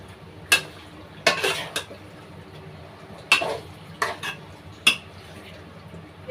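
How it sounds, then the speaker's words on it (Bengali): Marinated chicken stirred into fried masala in a pan with a metal utensil, giving sharp clanks and scrapes against the pan in irregular bursts of two or three over a quiet background. "এবারে মশলার সাথে চিকেনটাকে আমি ভালো করে মিক্স করে নেব।"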